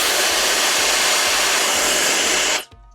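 A Wolfbox MF200 portable electric air blower runs at full power with a loud, steady rushing whoosh, then cuts off abruptly and winds down near the end.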